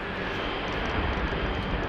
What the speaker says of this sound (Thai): ผมสอยมันตอนมันกำลังเทคออฟได้ไหมเนี่ย